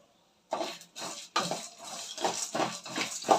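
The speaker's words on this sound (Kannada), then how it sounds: "ಈ ರೀತಿ ಚೆನ್ನಾಗಿ ಹುರ್ಕೊಬೇಕು" Ingredients for a citron rice dish dry-roast in a pan, with a series of rhythmic metal scrapes and clinks from a spoon stirring against the pan, about seven strokes, close and moderately loud, with no talking.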